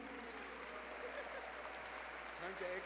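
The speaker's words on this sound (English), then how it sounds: "Another round of applause, please" Audience at an annual community awards ceremony applauding, a steady, moderately distant wash of clapping with crowd murmur and voices underneath.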